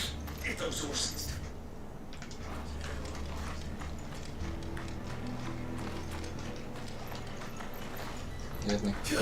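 Rhythmic clip-clop of galloping horse hooves in the video game Final Fantasy XVI, with game-like effects, while voices talk over it.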